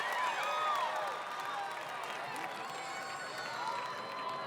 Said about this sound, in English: the crowd cheering him on